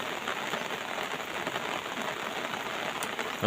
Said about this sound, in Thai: อยู่ที่จำปาดงนะครับนี่ฝนตก